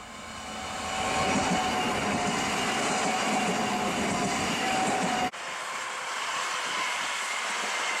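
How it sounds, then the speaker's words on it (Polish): A Warszawska Kolej Dojazdowa EN97 electric commuter train passes nearby in winter, a loud steady rush of wheels and motor noise that swells over the first second and holds, briefly dipping with a sharp break midway. "Warszawska kolej dojazdowa, tym razem EN97"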